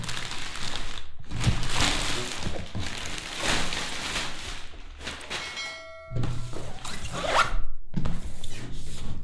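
A laptop is pulled out of its packaging in a series of close rustles, scrapes and soft thumps, with a brief zipper-like rasp in the middle.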